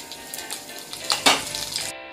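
Cumin seeds, coarsely ground coriander, fennel and black pepper fry in hot oil with a bright, crackling sizzle that swells briefly in the middle, close up, with faint stirring and no voices.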